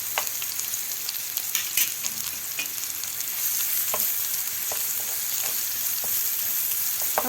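Minced garlic fries in a pan with black pepper, salt, paprika and cumin, giving a loud, steady hissing sizzle with occasional sharp pops and stirring clicks, no voices.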